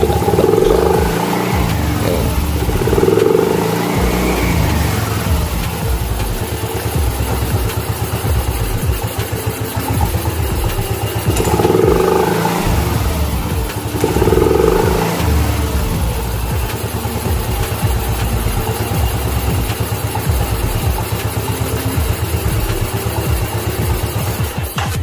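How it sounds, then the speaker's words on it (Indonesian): A Yamaha Mio Soul GT 125 scooter fitted with a Daytona double clutch runs steadily near the listener, its engine idling and swelling in a few short revs over a continuous loud drone. "Dia langsung gas, langsung ngejengat ya, nggak perlu ada jeda kayak mulur."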